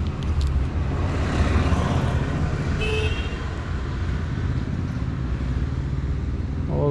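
A Hero Xpulse 200 motorcycle being ridden on roads near Dehradun, with a continuous engine and wind roar, passing traffic, and a brief horn toot partway through.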